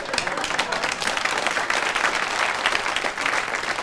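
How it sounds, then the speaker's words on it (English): A studio audience breaks into dense, sustained applause, many hands clapping close and loud at an even intensity throughout, with no voices standing out. "Half a minute and everybody's clapping you."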